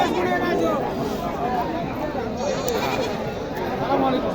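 Goats bleat repeatedly at a busy traditional goat market in Naogaon, Bangladesh, their cries rising over a dense crowd of chatter and bargaining voices close by.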